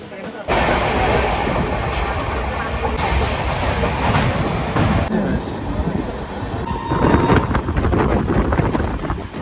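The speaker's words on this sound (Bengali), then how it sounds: "ট্রেনটা কিন্তু বেশ ভালো স্পিডে যাচ্ছে।" Kolkata to Balurghat express train (13189 from Sealdah) running at speed, heard close from on board as a loud continuous rumble with wind buffeting and rattling surges.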